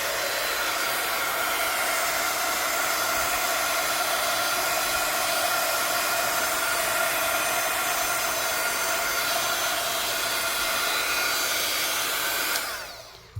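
A hair dryer blows air onto a wet art journal page, a loud steady whir holding for about twelve seconds before switching off abruptly, with no talking.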